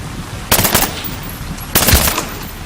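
Two loud bursts of rapid automatic gunfire in Medal of Honor Warfighter, each lasting about a third of a second, separated by a brief pause.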